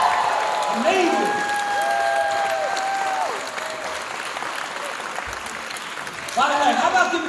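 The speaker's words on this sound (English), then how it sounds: "Stand up and give yourself a round of applause for being here." An audience claps together in a large room, sustained applause running steadily throughout at moderate loudness, with a swell of louder clapping and a few voices near the end.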